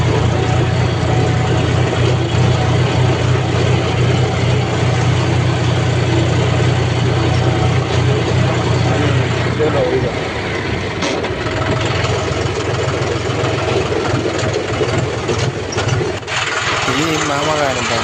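39-horsepower second-hand tractor engine running steadily with a loud, constant low diesel drone and rumble close by, a voice speaking over it.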